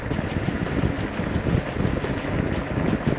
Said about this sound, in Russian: Какой ветер встречный?